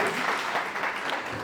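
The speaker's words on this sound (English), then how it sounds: "Let's give Seema a round of applause" An audience applauds for Seema, a brief, steady wash of clapping from a room full of people, moderately loud with no pauses.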